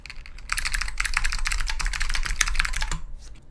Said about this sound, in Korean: 이 얇은 키캡에서 오는 그 살짝 바삭바삭거리는 그런 느낌이 있습니다.